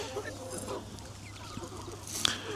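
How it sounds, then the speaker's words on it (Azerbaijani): Kharkov roosters for sale cluck and call in a farm setting, with a sharp crowing burst near the end amid low background hum and faint voices. "Bax, bu cür nə xoruzlar satılır"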